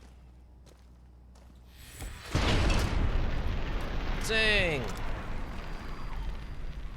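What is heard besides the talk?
plasma gun explosion in the video game Fallout: New Vegas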